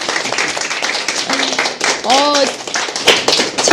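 A small studio group claps during talk-show banter, scattered sharp hand claps mixed with close, steady conversation and a brief laugh-like voice.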